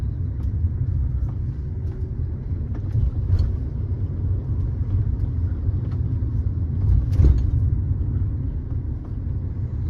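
Car engine straining uphill in third gear at about 30, a steady low rumbling drone with road noise, heard from inside the car.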